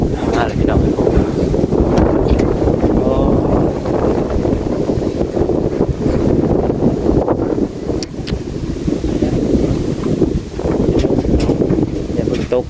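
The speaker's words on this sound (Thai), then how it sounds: "พายุมาเลยพี่น้อง" Strong storm wind roars and buffets the microphone at a house under construction as a storm hits in the evening, a loud, steady rush throughout with a person exclaiming and talking over it.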